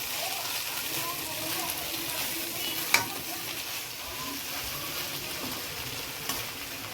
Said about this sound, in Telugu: ఇప్పుడు broccoli chicken capsicum fry ready అయిపోయిందండి